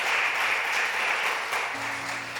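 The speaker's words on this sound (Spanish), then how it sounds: "Aplauda con todas sus fuerzas si va a aplaudir." A church congregation claps in a sustained burst of applause, a dense wash of hand claps that stays even throughout, with a faint tone creeping in near the end.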